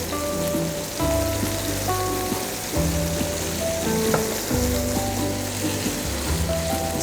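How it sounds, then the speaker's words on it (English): Tomatoes hit hot beef strips in a pan, setting off a loud, continuous sizzle and crackle of frying with occasional stirring, no voices. "At this stage, tomatoes are going to go in."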